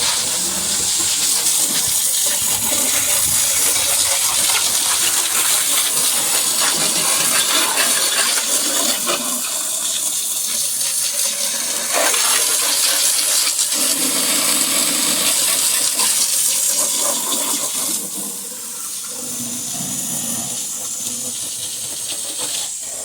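A pressure washer sprays water to rinse away cleaner, making a loud, continuous hiss that shifts slightly as the spray moves and eases a little near the end, with no talk.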